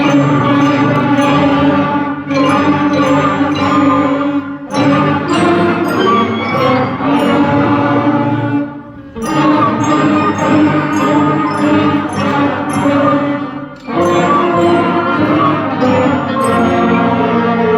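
Students play Jingle Bells at a classroom informance, sustained tonal instrument notes with rich overtones moving through melodic phrases, loud and alone, with brief pauses between sections.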